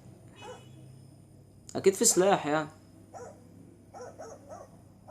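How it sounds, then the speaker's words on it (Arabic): A dog in a horror house game barks in several short, sharp bursts, with a louder cluster midway and a few quieter yips afterward, while someone talks over it. "هو الكلب اللي عمال يهوهو ده"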